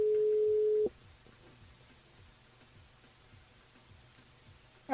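A telephone line gives one steady, even tone for just under a second as a radio show dials a listener, then cuts to near silence with faint background hiss.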